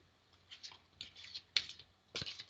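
Tarot cards shuffled by hand, several short papery riffles close up and fairly quiet, spaced by brief pauses, with nobody talking.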